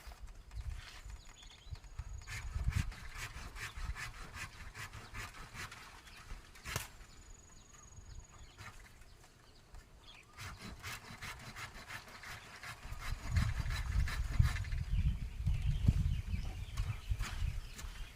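Rhythmic rasping strokes of a hand saw cutting through bamboo, fairly close, growing louder and denser toward the end.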